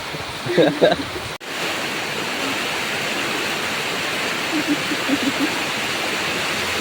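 Steady, loud rushing floodwater roars continuously, with a few brief voices early on and a sharp knock near the start.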